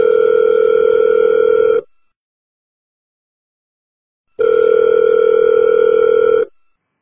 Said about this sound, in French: Faut que je passe un coup de fil au marquis de Florian